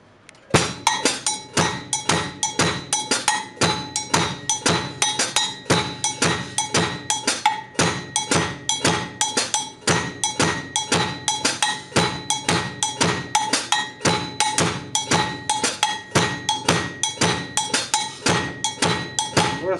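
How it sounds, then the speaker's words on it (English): Fast, steady cowbell strikes play a nanigo-style polyrhythm against a drum-kit ostinato with the hi-hat pedal on two, loud, close and unbroken throughout with no talking. "I'm gonna do this one on the cowbell."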